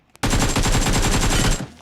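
An automatic weapon fires in the BGMI mobile game: a single shot, then a rapid continuous burst of roughly twenty loud, close rounds lasting about a second and a half, with no talk.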